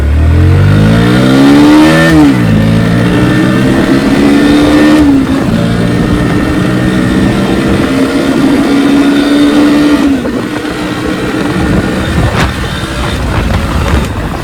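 Bajaj Pulsar N160 and NS125 motorcycles rev at full power in a drag race, loud and close, their engine notes climbing through gears with rising and falling pitch sweeps over a steady roar.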